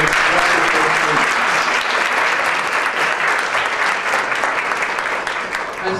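An audience at a district club conference applauds loudly and continuously. The dense clapping fills the room and fades slightly toward the end.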